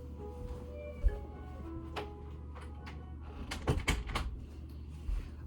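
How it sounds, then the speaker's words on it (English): A door shut indoors with a few short, muffled thuds and knocks in quick succession, moderately close, over quiet room tone. "Give me 1 second, I'm going to shut the door."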